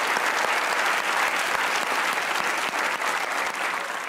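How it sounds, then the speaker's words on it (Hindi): A studio audience at a Pakistani comedy talk show breaks into loud, sustained applause, a dense wash of many hands clapping at once with no voices over it. "आज की तालियां बजाएं अपने लिए।"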